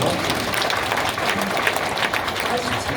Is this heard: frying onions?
no